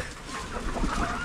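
Chickens cluck in a farmyard where newly hatched chicks are kept, a steady murmur of hen calls at moderate level with no clear speech over it.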